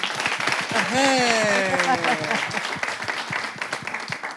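Audience applause at a live French-language hosted event, a dense crowd clapping steadily over a couple of seconds while a voice talks prominently over it.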